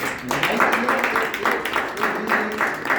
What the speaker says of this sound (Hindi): तो मैं आपको तालियां बजाइए इसके लिए।